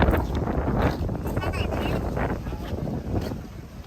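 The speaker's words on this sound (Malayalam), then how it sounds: "നല്ല കാറ്റ് നല്ല തണുപ്പ്" Strong wind at the Adiyogi statue in Coimbatore buffets the microphone in heavy, uneven gusts throughout, with a voice talking faintly underneath.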